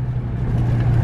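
A 2008 Subaru WRX STI GRB Spec R engine drones low and steady from inside the car under acceleration, a brief loud hum with no speech.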